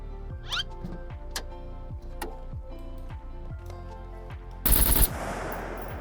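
Rapid gunfire from the video game SCUM, a burst of shots fired at and through a car, loud and sharp near the end over a steady game background of ticks and hum, with no voices.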